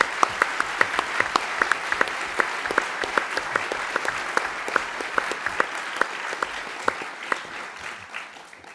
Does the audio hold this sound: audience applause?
yes